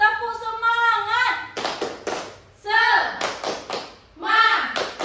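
A classroom of children claps out a rhythmic cheer on a teacher's cue. Quick bursts of hand claps and taps alternate with chanted, sung phrases from the group, close and lively.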